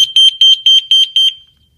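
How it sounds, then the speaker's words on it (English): Six evenly spaced high-pitched electronic testing beeps from a Simon XT security panel in quick succession, loud and close, then silence. "Those are the testing beeps, so you can ignore those."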